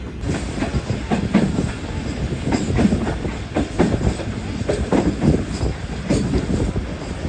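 An Awam Express passenger train rolls steadily along the rails, a continuous loud rumble with rhythmic clickety-clack from the wheels, heard from inside a refurbished coach with no talk.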